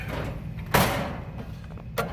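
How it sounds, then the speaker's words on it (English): An AU640 analyzer door is pushed down with a single sharp thump, followed by a lighter click a moment later over a low machine hum. "Oops, sorry, I'm going to push that door down."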